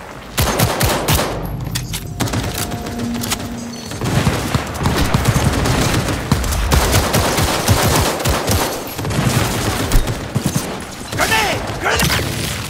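Turrets in a video game fire long, loud bursts of rapid automatic gunfire, dense and close, with booms and mechanical clatter mixed in and a voice speaking briefly amid the shooting.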